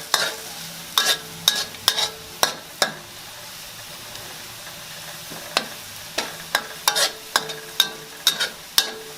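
Shallots fry in a pan with a steady soft sizzle, while a utensil scrapes and stirs in quick clicking bursts. A short quieter pause in the stirring breaks up the sequence. The sound is close and there is no talk.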